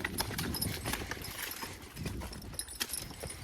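Hooves of a young Belgian draft horse being line driven clop in an uneven, fairly close rhythm over a soft ground surface, with no voices.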